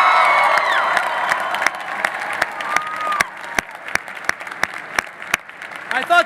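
Audience applause with a few cheers and whoops at a FIRST robotics awards event, loud at first then thinning to scattered individual claps, with voices shouting briefly over it.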